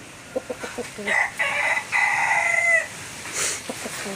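A young rooster crows loudly and close by in one long drawn-out call, preceded by a few short clucks and followed by a softer trailing note, outdoors.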